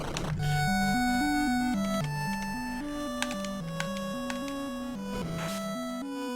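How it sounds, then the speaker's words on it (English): Airship flight theme in a Final Fantasy 1 randomizer, a steady looping chiptune melody with a bouncing bass line over a constant buzzing hum, played alone at moderate volume. "It's the airship sound flying around with the airship."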